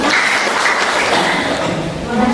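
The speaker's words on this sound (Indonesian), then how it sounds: "Kemudian kita beri semangat, tepuk tangan." Applause for a presenting group, the third, in a coaching session for academic supervision; a short burst of clapping with a voice speaking over it.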